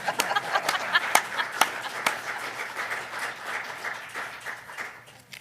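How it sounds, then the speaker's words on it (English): An audience at a West Clermont Schools board of education meeting gives a round of applause, with sharp individual claps standing out at first before the clapping thins and gradually fades. "So another round of applause."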